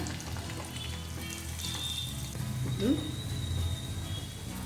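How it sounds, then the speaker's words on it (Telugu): Garlic, cumin and urad dal roasting in a hot pan give a steady low sizzle and crackle, with voices talking over the cooking. "ఎల్లిపాయలు అనమాట బాగా రోస్ట్గా ఎల్లిపాయలు రోస్ట్ అయిన వేయించుకోవాలి బాగా"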